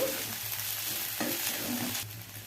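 Avalakki chitranna, flattened rice with seasoning, being stirred and tossed in a pan, giving a continuous soft scraping and faint sizzle at a low, even level with no talking.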